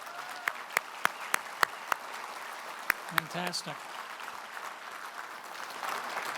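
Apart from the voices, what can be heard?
audience applause at appreciation fund event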